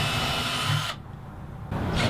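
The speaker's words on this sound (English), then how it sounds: "pre-drill one hole" A power drill pre-drills a hole for a hinge screw in a reclaimed wooden crate toybox: a steady whirring drone that drops away briefly, then starts up again.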